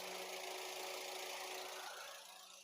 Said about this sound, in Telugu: చాలా అంటే చాలా స్మూత్ గా అయితే ఉంది ఇంజన్.